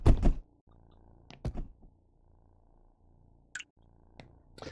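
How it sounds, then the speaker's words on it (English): A cat purrs in a simulator video game, a soft, low, continuous rumble under scattered louder thunks and clicks from the game. "I love that I can just hear the cat purring."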